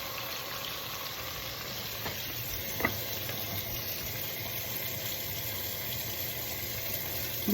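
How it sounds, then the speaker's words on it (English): Chicken searing in a pot for homemade chicken noodle soup, a quiet, steady sizzle with a couple of faint clinks partway through. "It's just to get like a good, a little sear on it to give it some flavor."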